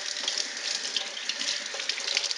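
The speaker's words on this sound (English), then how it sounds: "I'm going to rinse that meat down good, baby, before I cook it." Tap water runs steadily over raw roast meat in a kitchen sink, a close, even rushing splash with no speech.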